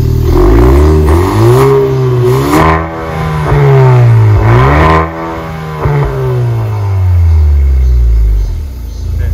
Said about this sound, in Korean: 4기통치고는 상당히 마세라티스러운 소리가 나는 걸 확인할 수 있습니다.